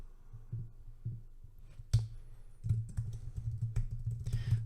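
Typing on a computer keyboard, soft quick key clicks that start sparse and become a steady busy patter, close and fairly quiet over a low background hum.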